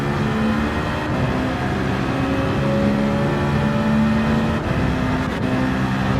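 Racing car engines in Gran Turismo 7 whine steadily at high revs during a race, a loud, continuous drone with tones that rise and shift as gears change, and no voices over it.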